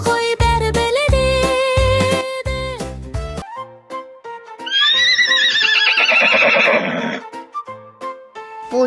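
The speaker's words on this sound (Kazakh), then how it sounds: "Дұрыс, жылқы." Cartoon horse sounds: rhythmic clip-clop hooves over bright tonal music, then a loud, quavering whinny that stretches for several seconds before the music resumes.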